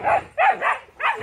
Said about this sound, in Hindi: कितना बड़ा कुत्ता है